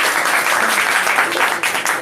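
Dense, continuous audience applause at a prize ceremony as the second-place winner, Rudra, is announced: many hands clapping together at steady loudness for the whole stretch.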